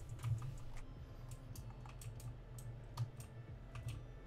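Someone types rapidly on a computer keyboard, heard faintly and thinly through a voice chat connection as a steady patter of clicks over a low hum, with no talk.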